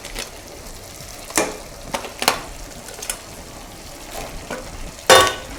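A spoon stirs crab gravy masala in a pan over a low background sizzle, giving several scraping strokes at irregular intervals with a louder scrape near the end.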